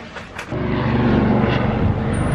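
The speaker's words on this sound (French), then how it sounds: "Regardez, il y a un hélicoptère." A low, rumbling helicopter engine drones steadily overhead, loud and sustained after a brief quieter moment at the start.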